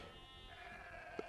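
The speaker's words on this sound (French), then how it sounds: "Vous avez beaucoup de moutons autour." Sheep in Age of Empires 2 give a single short bleat near the end, faint against a steady hum of game ambience and background tones.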